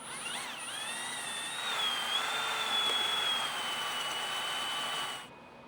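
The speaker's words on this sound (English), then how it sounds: "you just take an old Allen wrench, chuck it in your drill, spin it" A cordless drill spins an old Allen wrench through thick paint to mix it, a whining motor tone that rises and settles at a steady pitch for several seconds, then stops abruptly, with no voices.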